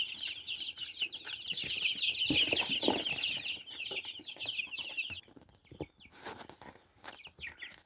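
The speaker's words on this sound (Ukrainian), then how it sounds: "Тут у мене ось величезні сидять уже курчата." Chicks confined in a box keep up a dense, continuous stream of high peeping and clucking, close and loud, with a few sharper calls near the end.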